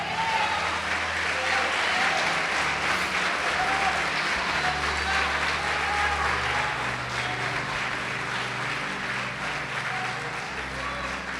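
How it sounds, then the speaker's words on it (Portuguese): Church congregation applauding in sustained, dense clapping that fills the room evenly and holds steady at close range before easing slightly toward the end, with a low murmur of voices underneath. "Pode aplaudir o Senhor."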